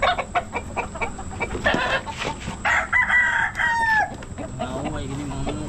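A hen clucks and crows in a rural backyard flock, with repeated close clucks and cackles over a few seconds and scattered background noise.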